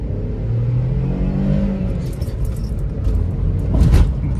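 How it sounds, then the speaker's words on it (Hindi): A VW Polo 1.2 petrol Highline revs hard in first gear, engine pitch climbing in a rising whine over a rumbling cabin, then easing off before a brief surge near the end. "पहले पे ही मतलब ये गाड़ी 5-6-7 RPM तक पहुंच जाती है"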